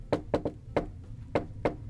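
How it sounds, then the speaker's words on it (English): Sharp knocks on a door land in an irregular pattern, about six loud, close raps with a doubled knock near the start, heard alone without speech. "I like knocking like that."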